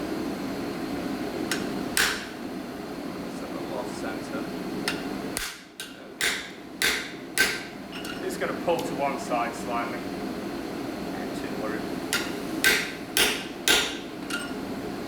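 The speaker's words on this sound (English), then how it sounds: "Notice I'm not putting in too many hammer strikes, about 3." Hammer blows driving a half-inch square hot punch through steel at a forge, sharp ringing strikes arriving in short clusters, loud and close, with someone talking between them.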